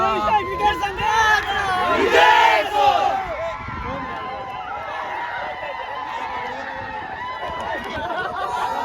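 A village crowd celebrates a winning team at a tennis-ball cricket tournament final, with loud overlapping shouts, whoops and cheering that peak early and then settle into lively chatter and calls.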